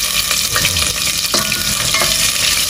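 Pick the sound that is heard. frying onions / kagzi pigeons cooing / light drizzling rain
frying onions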